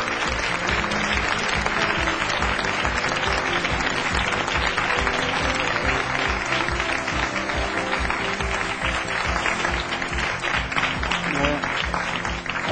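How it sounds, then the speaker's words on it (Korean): A lecture audience in a hall gives warm applause to welcome a hospital director to the stage, a dense, even wash of many hands clapping continuously at close range with no talk. "여러분 뜨거운 박수로 환영해 주십시오"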